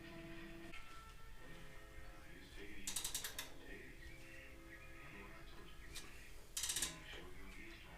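A ratchet torque wrench clicks in two short, rapid bursts of metallic ratcheting while tightening upper control arm bolts on a GMC Envoy, faint amid quiet workshop background.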